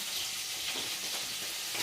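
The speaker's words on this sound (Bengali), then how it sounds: "এই দেখো এটা মাগুর তুলে নিয়েছে, হালকা করে ভাজা করছি।" Magur catfish sizzling and crackling in hot oil, a steady bright hiss with small pops, close and without any talking.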